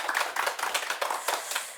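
A small audience at a Catholic lecture on the Book of Revelation claps by hand in a brief, close, fairly even burst of applause that lasts under two seconds, with no talking.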